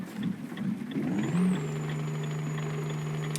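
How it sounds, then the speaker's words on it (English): Simulated truck engine in Euro Truck Simulator 2 revving out in wet weather, a loud steady drone that rises in pitch and holds at high revs for several seconds, with no talk over it. "I really do not like how the gearbox is just revving out."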